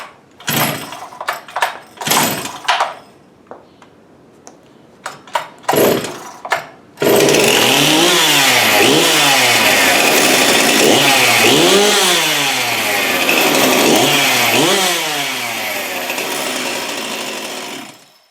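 A Jonsered 2063 chainsaw gets several sharp rope pulls, then fires up and roars close and loud, revving up and down repeatedly before settling into a steady run.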